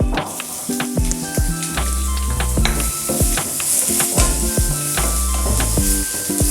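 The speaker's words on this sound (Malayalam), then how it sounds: "നന്നായി ഒന്ന് വഴക്കി കൊടുക്കാം. ഉള്ളി ഒന്ന് വാടി വരാൻ വേണ്ടി" Green chillies and onion sautéing in a pan for a Kerala-style green peas curry, a steady loud sizzle with repeated scraping stirs and utensil clinks throughout.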